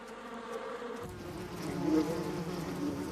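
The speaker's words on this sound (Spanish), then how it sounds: "Convencieron a las abejas para que volasen por un túnel largo" Bees buzz steadily and close, a continuous droning hum that swells slightly as they move about, with no voices.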